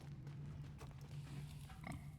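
Scared pig grunting and sniffing in the video game REANIMAL, a steady low snuffling close by with a few brief higher squeaky sounds toward the end.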